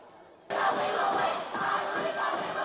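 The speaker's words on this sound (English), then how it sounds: "Los Altos fans trying to get the crowd back into this one" Fans at a high school volleyball match between Mountain View and Los Altos break into loud sustained cheering and shouting that swells suddenly after a quiet moment and carries on as a dense crowd roar.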